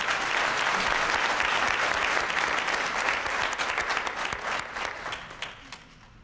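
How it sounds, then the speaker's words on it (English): An audience at a high school graduation celebration gives a round of applause, a dense wash of claps that holds steady and then thins and fades toward the end. "So let's give them another round of applause."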